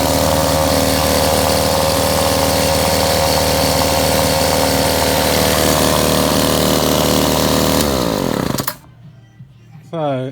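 A whipper snipper engine drives a generator under load, running loud and steady with a dense buzzing drone for about eight seconds, then cutting out abruptly and winding down into near silence.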